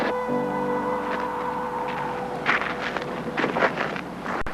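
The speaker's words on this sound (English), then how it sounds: "we've got a nice wind this morning" Morning wind at a hang gliding site buffets steadily and fairly loud, gusting harder toward the end, with a faint steady tonal hum underneath.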